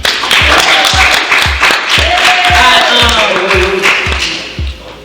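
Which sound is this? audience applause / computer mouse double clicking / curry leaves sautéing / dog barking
audience applause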